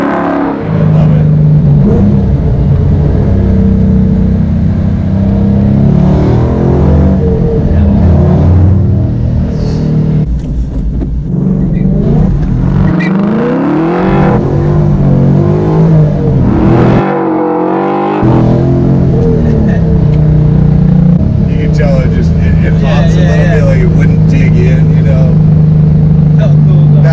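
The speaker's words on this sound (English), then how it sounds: "Great snarl in this car." A Coyote V8 swapped into a 1967 Ford Mustang Fastback revs and rumbles with a deep, steady snarl close by, its pitch rising and falling, while people talk over it throughout.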